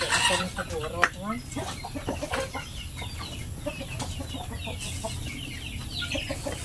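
Small backyard chickens cluck softly in a farmyard, with scattered bird calls and brief clucks under a low, continuous outdoor background.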